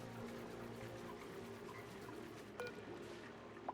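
Water geyser erupting in the Oxygen Not Included video game, a steady watery pouring and trickling rush that holds at even loudness throughout, with a couple of small clicks near the end.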